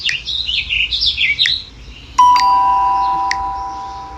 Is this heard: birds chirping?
yes